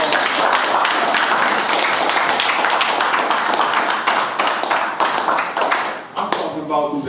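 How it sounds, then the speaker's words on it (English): Warm round of applause from an audience at a music event at The Mansion, a loud, continuous wash of many hands clapping that tapers off at the end, with voices mixed in. "Everybody need to give everybody a warm round of applause."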